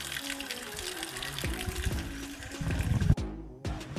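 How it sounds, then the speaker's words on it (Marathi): Natural water rushes and gushes outdoors in the Konkan countryside, a continuous close flow with a brief break near the end before resuming. "नॅचरल पाणी."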